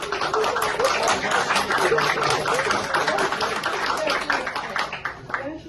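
An audience at a young poets' recital claps in a steady, dense burst that lasts several seconds and thins slightly toward the end.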